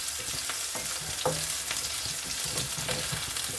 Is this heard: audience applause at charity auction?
no